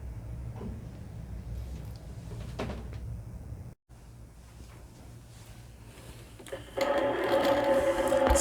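Sewing machine stitching straight-line quilting across a quilt, guided along a ruler: a steady low mechanical hum runs throughout, briefly cutting out, then a louder, faster stretch of running near the end.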